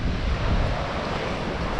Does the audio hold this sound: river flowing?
yes